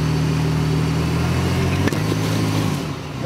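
An LS3-powered Jeep JKU (Elite build) running with a loud, close, steady engine drone while driving out, its pitch easing and fading slightly near the end.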